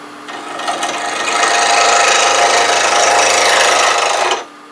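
A lathe tool cuts a spinning wooden spindle block for a twig pot, a loud, continuous rasping scrape that builds over the first second, holds steady, then stops abruptly near the end.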